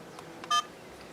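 A new dash camera gives a single short electronic beep as it begins recording, clear and close against a quiet indoor background.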